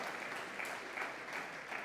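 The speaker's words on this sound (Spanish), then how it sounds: "Dele ese aplauso al Señor" A church congregation applauds steadily, a dense, continuous clatter of many hands at moderate distance with no pauses for about two seconds.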